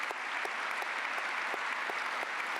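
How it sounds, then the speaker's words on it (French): Audience applause, a steady dense wash of many hands clapping with a few louder claps standing out, even and sustained throughout with no talk. "je ferai un applaudissement à cette page"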